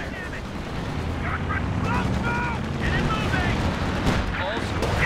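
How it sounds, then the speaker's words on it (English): Artillery fire and gunfire pound away in the video game Company of Heroes 2, a battle with repeated dull blasts and crackling shots at mid distance under a dense, noisy mix. "struggling here with the artillery on me."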